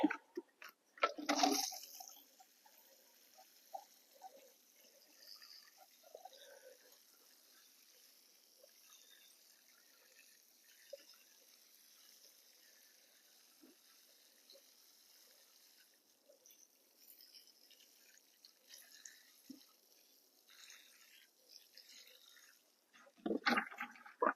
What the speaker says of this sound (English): One last good watering.